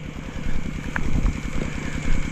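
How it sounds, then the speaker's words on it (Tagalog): A small engine on a farm runs with a rapid, steady chugging pulse, close and fairly loud, with no talk over it. "Paandar yung makina natin."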